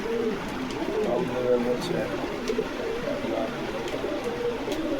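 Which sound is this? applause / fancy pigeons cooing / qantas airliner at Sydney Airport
fancy pigeons cooing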